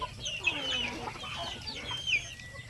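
Hungry native chickens cluck and call in a noisy flock at feeding time over mixed feed and leftover rice, with overlapping close and mid-distance clucks filling the scene.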